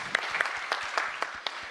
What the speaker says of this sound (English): Applaud for whoever said spaghetti